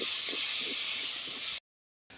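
Chopped tomatoes with rock salt sautéing in a pan for a Tamil crab and cassava curry give a steady, loud hiss of sizzling, close up, before cutting to silence and then resuming briefly.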